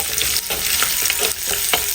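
Shallots cut into rounds and curry leaves fry in hot oil, giving a steady, close sizzle with crackling pops and occasional stirring scrapes throughout.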